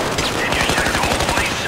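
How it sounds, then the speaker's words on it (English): Automatic gunfire in the Payday 2 heist video game, a rapid steady stream of close, loud shots that runs through the whole moment, with faint voices mixed underneath. "I'm just shooting all this ammo at the ground."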